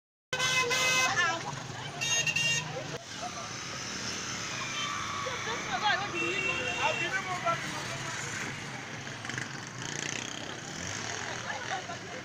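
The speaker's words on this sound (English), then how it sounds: "At the sight of this armored car, total commotion took over the motor park in Kumbo." An armored vehicle passes through a busy motor park in Kumbo on a Friday morning, with car horns honking in short toots over steady crowd commotion, traffic noise and voices.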